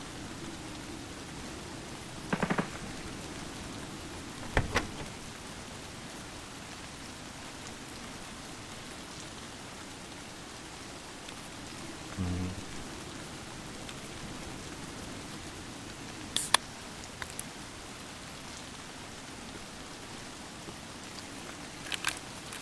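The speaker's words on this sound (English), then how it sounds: "Probably because it's streets and it's raining." Rain falling on a city street in Escape from Tarkov, a constant even hiss with a few sharp brief clicks and thumps scattered through, no talking.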